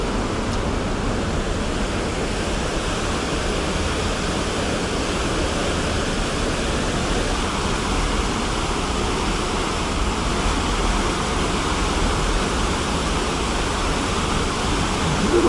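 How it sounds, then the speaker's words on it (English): Ocean water churns in the wake at the rear of a cruise ship on a choppy sea day, a loud, unbroken rushing roar that holds steady throughout with no voices. "Water is a little choppy,"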